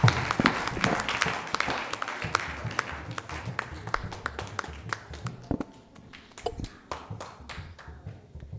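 An audience at a North American Vaishnavi Ministry gathering claps to congratulate a woman. The crisp applause is lively at first, then thins into scattered hand claps that fade toward the end, with faint voices underneath.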